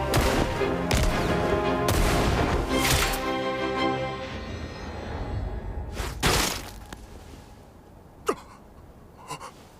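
Gunshots from the anime Release that Witch ring out as loud sharp cracks amid a dense soundtrack, followed by a few scattered distant reports as the sound thins.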